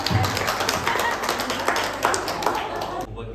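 An audience claps at a beauty school certification day ceremony, with quick sharp claps running under a speaking voice for a few seconds.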